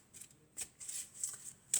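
Oracle cards handled during a reading, heard as a few soft, quiet papery flicks and shuffles at close range, spaced irregularly, with no voice.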